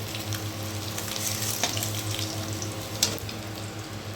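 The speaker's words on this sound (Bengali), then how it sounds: "তো ডিমগুলো এখন লালভাবে ভাজতে হবে" Eggs sizzle and fry in a pan of oil, a steady loud crackle across the whole stretch with a couple of sharp pops and clinks, and no voices.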